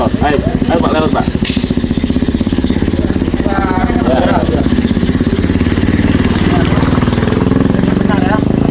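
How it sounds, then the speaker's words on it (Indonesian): A motorcycle engine runs loud and close throughout, a steady, rapid putter that holds on without fading, while people talk over it. "Nah, ada motor. Ayo Pak lewat Pak."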